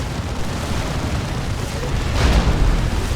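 Frenzied Barrage from a Chaos Dreadnought in Dawn of War 2, a steady low rumble of explosions that swells near the end, dense and continuous with no talk.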